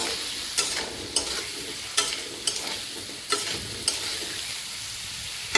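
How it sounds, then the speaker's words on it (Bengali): Potatoes with turmeric and salt fry in a pan with a steady sizzle. Sharp scraping stirs from a utensil break through about every second. "তো এবার আমি আলুগুলো ভাজতে নিব।"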